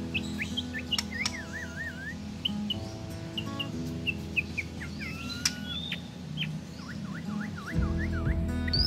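White-rumped shamas (murai batu) chirp and whistle in quick, repeated trills and slurred notes, close and clear over a steady background hum, with no talking.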